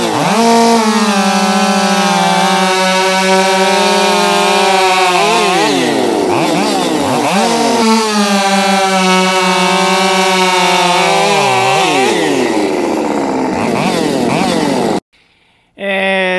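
A Husqvarna 550XP chainsaw fitted with .325 chain runs close and loud, holding a steady high roar with rising and falling revs, then cuts off abruptly near the end.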